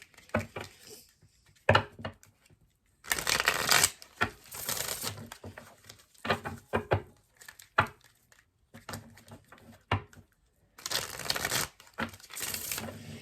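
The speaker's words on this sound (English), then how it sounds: "let's pull some more cards here for you" Tarot cards shuffled for a pick-a-card reading, giving bursts of papery riffling and crinkling that come and go between quiet gaps, close and moderately loud, with no talking.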